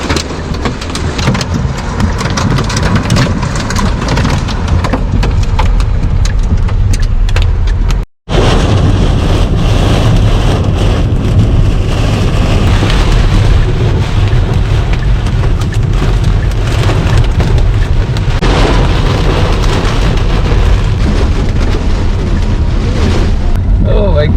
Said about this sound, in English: มีลูกเห็บตกด้วยนะคะ